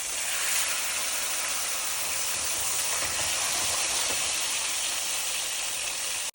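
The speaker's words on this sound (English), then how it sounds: "Let them fry on one side." Tortillas frying in hot grease on a stove turned to medium-high, giving a steady, loud sizzling hiss that holds unbroken for several seconds before cutting off abruptly at the end.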